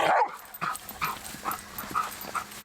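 A search and rescue dog in training on a practice rubble site gives a series of short whimpers and yips, repeating roughly every half second, close and moderately loud.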